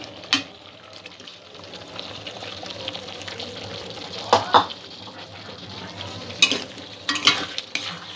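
Vegetables sautéing in a fried spice paste for a vegetable korma, a dense continuous sizzle with repeated stirring scrapes and sharp clinks of the spoon against the pan, close and fairly loud.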